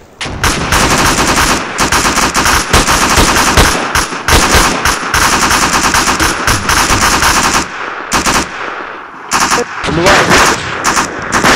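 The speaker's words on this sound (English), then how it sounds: "Keep firing, man!" Dense, loud machine-gun bursts in a military video game mission, near and continuous for most of the clip with a brief pause near the end, while a voice speaks over the gunfire.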